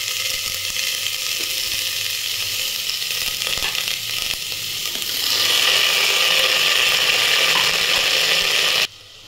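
Vegetables for chicken soup sizzle steadily in a pan while being gently stirred, with scraping and rattling of the utensil; the frying grows louder midway, then cuts off abruptly near the end.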